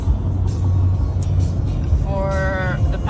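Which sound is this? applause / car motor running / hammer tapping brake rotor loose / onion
car motor running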